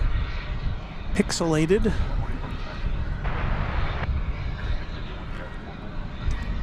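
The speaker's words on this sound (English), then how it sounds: "It's an Airbus A321neo. It's going to Mexico City as it passes in front of the Dallas skyline and the east tower of DFW." An Airbus A321neo airliner bound for Mexico City passes by at DFW Airport with a low, distant engine rumble. A person speaks over it, and a brief whistling tone rises and falls early on.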